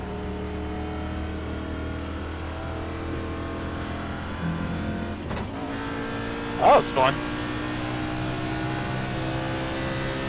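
A race car engine in the iRacing video game drones steadily with layered tonal whine, a brief spoken comment and a couple of short bumps breaking in midway.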